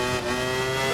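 Race car engine in the Assetto Corsa video game on a wet track, a steady high whine with harmonic tones as the wheels spin in fourth gear, loud and close throughout with no talking.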